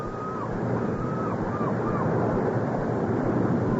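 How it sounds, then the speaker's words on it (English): Ocean waves in an old-time radio mystery drama, a steady broadband wash of surf rolling on continuously at moderate level with faint cries over it and no voices. "through the music of the languid hours, they hear the ocean"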